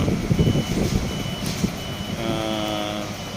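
A boom truck works beside a MAN truck under clutch repair in Apalit, Pampanga, lifting out the transmission. Loud, steady reversing beeps sound over a rumbling diesel engine, close by and without talk.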